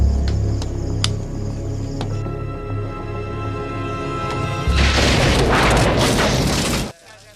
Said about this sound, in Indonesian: tiba-tiba ada seorang yang melempar granat ke sana